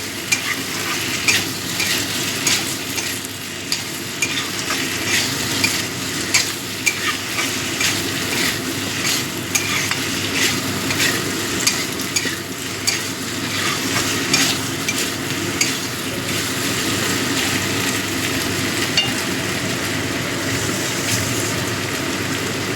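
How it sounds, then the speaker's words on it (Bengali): Batashi tangra fish fry in a pan and are stirred through hot oil, giving a loud, continuous sizzle with repeated scraping strokes of the spoon across the pan throughout. "ভালো করে মিশিয়ে দিচ্ছি।"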